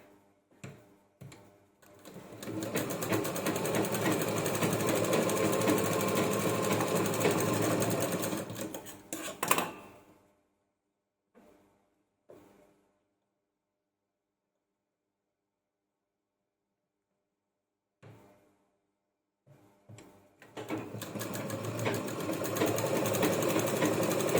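A sewing machine stitches a fabric strip from a saree blouse piece onto a bag, running in a loud, close, rapid whir for about eight seconds, then stopping for a quiet pause with brief stitches before starting again.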